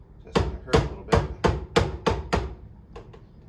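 A hammer pounds down on a copper roof end cap during renovation of an 1884 house, seven firm, evenly spaced blows followed by two lighter taps, close and alone.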